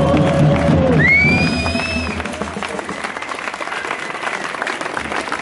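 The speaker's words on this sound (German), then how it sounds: "nochmal ein extra Applaus für die beste Demo Frankens" A crowd at the 2018 Easter peace march on Martin-Luther-Platz in Ansbach applauds and cheers, loud at first with whistles and shouts, then settling into steadier, slightly softer clapping.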